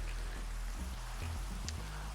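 Rain falls steadily in Minecraft VR, a faint, even hiss with soft, low tonal sounds under it.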